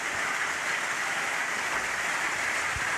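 Steady rain falls in a broad, even hiss, heard from a shelter during a break from coconut copra-making work outdoors in rainy weather, with no voices.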